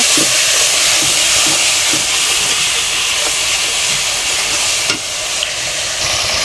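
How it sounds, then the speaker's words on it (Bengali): Ground spice pastes with turmeric sautéed together in oil in a pan, a loud continuous hiss of frying with soft intermittent stirring scrapes, close and steady throughout. "সমস্ত উপকরণ একসাথে ভালোভাবে কষিয়ে নেব"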